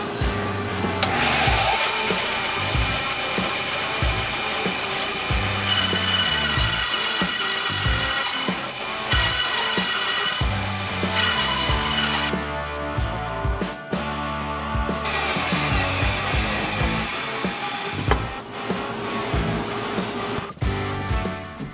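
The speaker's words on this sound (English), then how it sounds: "So I'm going to try to do this on the bandsaw." A bandsaw cuts through wood with a continuous loud rasping roar, shifting in pitch and texture as the blade works through the stock, with no talking.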